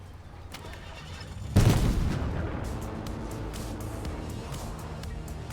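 A drum gun fires in a video game: a loud, sudden burst of gunfire that settles into a dense, sustained rattle of rapid shots, with no talking over it.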